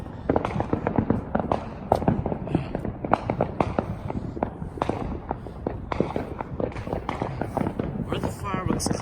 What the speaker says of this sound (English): We were able to catch the fireworks once again from my house.